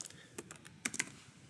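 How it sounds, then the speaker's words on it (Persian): Typing on a computer keyboard while entering commands, a quick irregular run of crisp key clicks, close but fairly quiet, with no voices. "پس در قسمت تایپ میکنیم"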